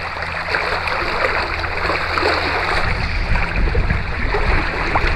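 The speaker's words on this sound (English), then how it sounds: "It's just the wind and the waves." Wind and waves while sailing a Hobie Wave catamaran, a loud steady wash of rushing water and breeze, with low-pitched splashes against the hull as it moves.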